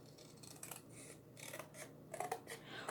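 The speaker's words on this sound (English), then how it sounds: "I'm just going to cut it." Scissors snip through a chalk-art stencil sheet in short, faint, close cuts with small rasping bursts, quiet throughout and with no talking.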